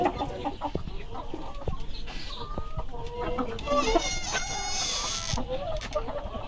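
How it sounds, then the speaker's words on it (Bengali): Layer hens on a poultry farm cluck repeatedly at close range, overlapping in an uneven, busy chorus with a few louder squawks. "আর এই পাশেও জানেন যে কিছু আমার লেয়ার মুরগি আছে।"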